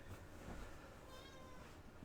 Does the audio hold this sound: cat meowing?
yes